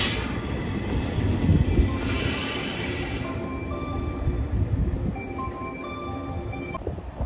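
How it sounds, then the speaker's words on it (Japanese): A JR West 113 series local electric train at Kurashiki Station on the Sanyo Line runs close by, with steady rolling rumble and wheel noise, a high-pitched squeal over the first few seconds, then fainter wheel squeaks. "倉敷駅12時49分発普通列車山陽本線岡山駅113系近郊型電車です。"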